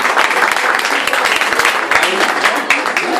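A crowd at an anniversary gathering in support of a political figure bursts into loud, dense applause, many hands clapping close and continuously throughout.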